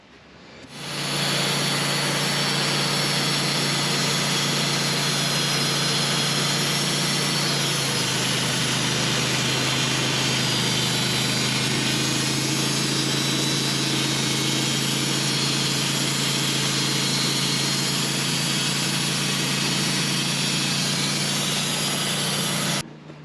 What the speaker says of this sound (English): All right, first cut with a carbide blade.